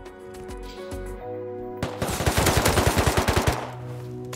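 Automatic gunfire in the survival game Rust around an oil rig: a loud rapid burst of about a dozen evenly spaced shots, preceded and followed by steady tonal background music.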